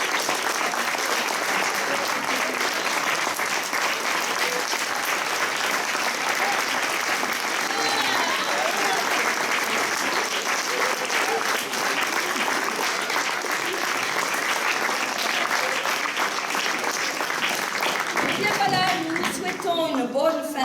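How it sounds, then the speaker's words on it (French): An audience applauds loudly and continuously for juniors at the end of a show, a dense, steady wash of clapping from a large crowd lasting throughout, with faint voices underneath. "Je vous demande d'applaudir bien fort aussi nos juniors."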